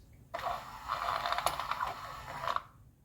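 A Hirschmann power antenna motor on a 1982 Mercedes 300SD whirs close by for about two seconds as it retracts, with a grinding, ratcheting gear texture, then stops abruptly.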